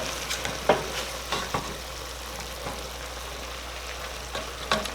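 A turkey and black bean chili is stirred in a pot, with soft bubbling sizzle underneath and several scattered scrapes and knocks of the spoon against the pot.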